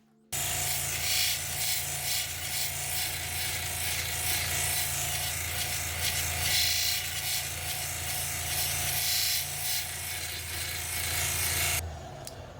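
A Nova sanding wheel being broken in against a stone gives a steady, loud abrasive rubbing and grinding over a constant motor hum, continuing without a break until it cuts off near the end.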